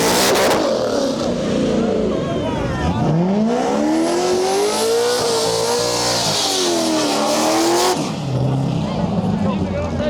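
Modern Muscle drag racing cars at Mid America Dragway roar past up close, one engine climbing sharply in pitch under hard acceleration, holding a loud, rising howl, then dropping away as another dense engine blare carries on.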